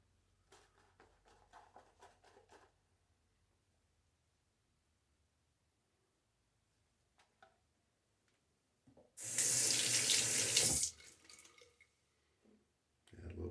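Water running from a tap into a shaving bowl while lathering shaving soap, a loud steady gush of about two seconds, preceded by faint drips and soft brushing sounds.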